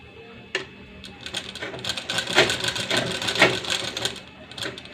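A household sewing machine stitches fabric in bursts of rapid mechanical clatter, speeding up and slowing between pauses, close and fairly loud with no voices.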